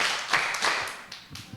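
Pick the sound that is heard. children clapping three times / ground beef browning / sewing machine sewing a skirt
children clapping three times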